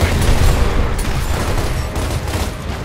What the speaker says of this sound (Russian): Блять, я гранату закинул